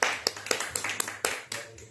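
A church congregation claps in a quick, uneven rhythm, with sharp separate claps landing about every quarter second over a short stretch and low murmuring underneath.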